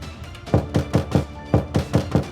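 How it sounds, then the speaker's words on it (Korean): Heavy, rapid pounding on a door: about eight loud, close thumps in two quick bursts, with no voices. "문을 쾅쾅 두드립니다."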